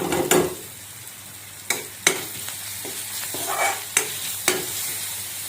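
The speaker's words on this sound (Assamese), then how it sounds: "অলপ ফ্ৰাই হ'বলৈ দিম" Onions fry with spices, salt and turmeric in a pan for egg pakora, a continuous close sizzle punctuated by several sharp scraping stirs of a utensil, with no voices.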